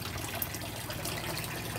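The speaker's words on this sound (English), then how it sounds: "the T siphon is already initiated and the water is already flowing down" Water flows steadily down through a T siphon in a DIY flood-and-drain hydroponics system, a constant soft trickling rush heard alone at low level.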